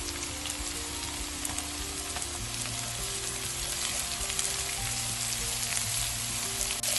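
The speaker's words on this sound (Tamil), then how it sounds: "இப்ப நான் இந்த வெட்டி வச்சுக்கிற பீட்ரூட்டா போடுறேன்" Beetroot frying in oil with onion, garlic and green chili gives a dense, continuous sizzle with a crackling texture, steady and close for the whole stretch, with no talking.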